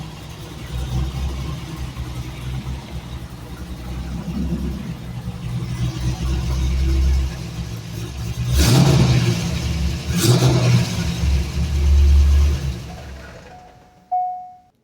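A 1999 C5 Corvette with mufflers fitted idles with a low, fairly subdued rumble, then revs sharply twice, each rev rising and falling quickly, before settling and cutting off near the end.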